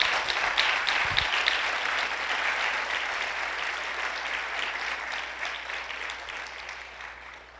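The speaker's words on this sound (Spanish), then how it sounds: "Vamos a darle un aplauso al Señor." A church congregation applauds during a service, a dense wash of clapping that starts strong and gradually fades over several seconds, with no speech over it.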